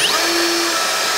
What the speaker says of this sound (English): we're going to drill these half-inch holes from underneath